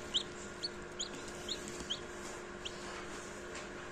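A newly hatched chick near a Kadaknath hen gives high, thin cheeps, about seven short peeps at irregular intervals over a low steady background, close by with no talk.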